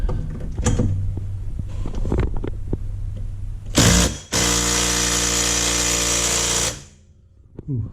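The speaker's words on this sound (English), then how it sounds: "Let's see if my trusty old Makita can break these things" An old Makita power tool, likely an impact gun on a socket, hammers at seized subframe bolts on a Mercedes. Clattering handling comes first, then a loud sustained mechanical burst of about three seconds that cuts off abruptly.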